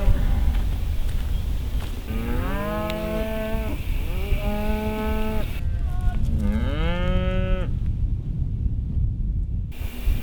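Cattle in a pasture give several drawn-out moos in succession, close and loud over a steady wind rush and low rumble.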